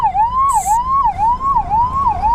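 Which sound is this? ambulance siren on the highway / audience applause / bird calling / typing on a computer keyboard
ambulance siren on the highway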